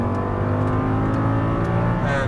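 An Audi R8 accelerates hard on a Las Vegas race track, its engine note loud and close with a rising roar and no pauses across the short burst.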